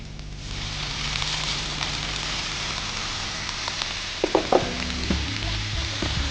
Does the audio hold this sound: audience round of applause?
no